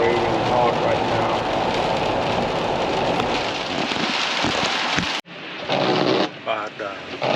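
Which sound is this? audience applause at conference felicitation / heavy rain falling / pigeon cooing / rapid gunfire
heavy rain falling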